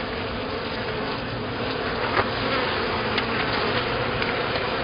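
Honeybees buzz steadily and densely from an opened hive during an inspection, a close, continuous drone with no talk.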